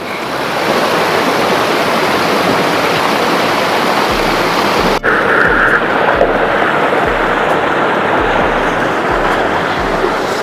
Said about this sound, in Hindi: सुबह सुबह पानी का आवाज एकदम थेरेपी के जैसे काम कर रहा है।